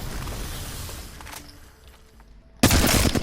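Hip-fire gunfire in a shooter video game, rapid automatic shots at first that fade into quieter mechanical sounds, then a sudden loud close burst of fire at the end.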